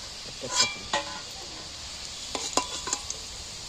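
Fried jackfruit pieces are lifted out of hot frying oil with a spatula. A faint sizzle hisses steadily under a few sharp metallic scrapes and clinks against the pan.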